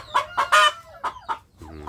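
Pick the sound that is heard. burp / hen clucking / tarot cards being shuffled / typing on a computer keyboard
hen clucking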